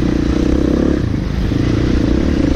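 A KTM 350 SX-F dirt bike engine revs hard on a tight wooded trail. A loud, continuous buzzing roar holds close by throughout, with slight rises and dips in throttle.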